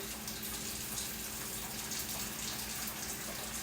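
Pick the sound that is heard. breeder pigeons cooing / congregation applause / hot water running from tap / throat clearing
hot water running from tap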